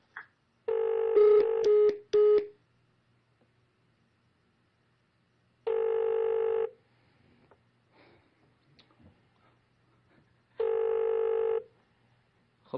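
An outgoing telephone call rings back with repeated electronic tones, three ringing bursts of about a second each separated by long quiet gaps, faint, with a few clicks in between and no talking.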